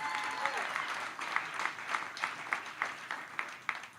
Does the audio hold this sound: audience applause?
yes